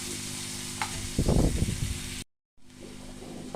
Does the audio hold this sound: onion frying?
yes